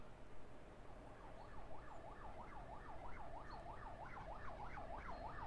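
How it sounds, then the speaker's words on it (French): A video game siren at a train-car collision scene wails, rising and falling in a steady rhythm, moderately loud over a constant low rumble, continuing without pause. "le bruit de la sirène."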